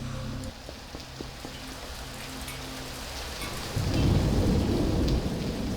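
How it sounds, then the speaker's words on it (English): A computer game map's storm ambience: steady rain patters on metal surfaces, then a deep rolling thunder rumble swells in the second half, with no voices. "the different pitter-patter noises to make the map feel more realistic, such as when the rain hits something that is supposed to be made out of metal"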